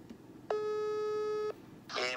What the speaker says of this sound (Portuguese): vou ligar pro Tampa, véi.